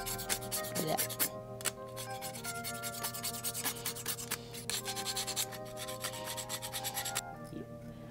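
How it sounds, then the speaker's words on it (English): Rust is scrubbed off the stainless tang of a Masakage Yuki kitchen knife with the handle removed, a quiet, close, continuous abrasive rubbing in rapid strokes with brief pauses and no talk. "I'm just gonna clean off the tang a little bit."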